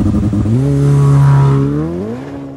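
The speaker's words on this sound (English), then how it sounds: "Behind your head is a twin turbo V8 that makes 711 horsepower and has a top speed of 211 miles an hour" A Ferrari F8 Tributo's 711-horsepower twin-turbo V8 revs up loudly from close by, climbing in pitch, holding a steady high roar, then easing back down as the revs fall, with no voices over it.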